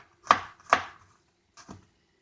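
Potatoes roughly chopped with a knife on a board: three crisp, close knocks, two in quick succession and a softer third after a pause, with no talking.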